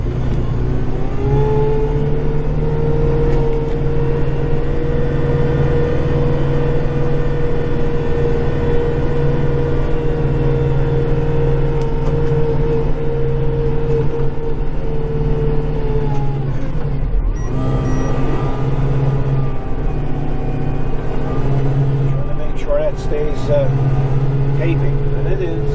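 Close, steady engine drone of a tractor pushing snow forward at night, a continuous low rumble that briefly drops and surges midway before settling back to a constant run.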